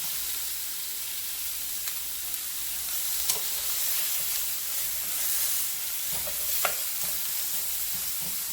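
Sausage frying in a skillet for a cheesy pesto shrimp and sausage dish, a steady broad sizzle with a few sharp pops and scrapes of a utensil breaking up the meat.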